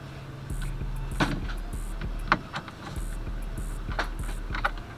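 Screw being backed out of a 14-inch billet half-wrap steering wheel on a Cutlass, heard as a steady motorized whir in two long runs broken by a few sharp metallic clicks and taps, close up with no talking.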